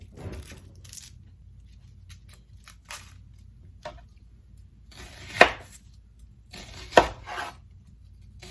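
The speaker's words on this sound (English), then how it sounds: "So I'll cut off a top, cut off a root." A knife trimming the top and root from a sprouting onion on a cutting board: quiet scraping and handling, then two sharp, distinct cutting thunks a couple of seconds apart.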